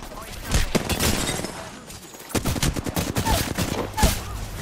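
Rapid bursts of automatic weapon fire in the video game Apex Legends, loud and close, in repeated rattling volleys with a brief lull between them.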